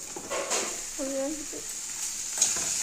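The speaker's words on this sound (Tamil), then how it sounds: "இதெல்லாம் சேர்த்து மிக்ஸ் பண்ணிவிட்டு இப்போ நம்ம இட்லியை போட்டுக்கலாம்" Idli for idli upma is added to a pan with turmeric and stirred, giving soft scraping and light sizzle over about three seconds, with a brief tonal voice-like sound in the middle.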